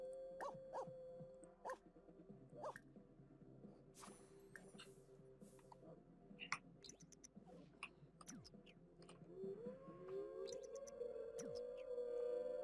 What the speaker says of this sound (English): we're gonna play with our doggy